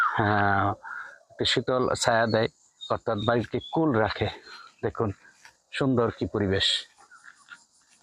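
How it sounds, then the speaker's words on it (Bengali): Crickets chirping around a rooftop among trees, a faint continuous high trill under someone talking close by. "নিশ্চয়ই আপনারা ঝিঝি পোকার ডাকও শুনতে পাচ্ছেন"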